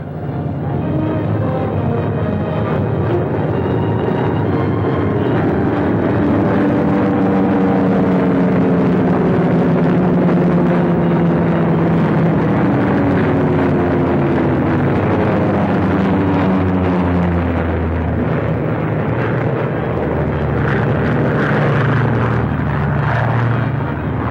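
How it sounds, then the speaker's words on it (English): Steady loud drone of WWII propeller bombers circling and landing at an Aleutian airfield, engine tones wavering and shifting in pitch throughout with no break. "Six bombers went out, and 6 are coming back."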